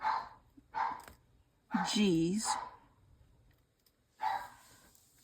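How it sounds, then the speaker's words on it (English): A pet dog barks a few times at close range in a home, the sharp yaps arriving in short bursts between soft whispered speech and a sigh. "The dog is fine. He's just barking at my husband."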